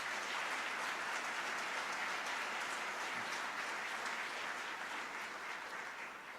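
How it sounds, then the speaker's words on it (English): Applause fills the room at a city mayor's State of the City speech, a continuous dense roar of many hands clapping, fairly distant and even, tapering slightly at the end. "Let's give them a round of applause."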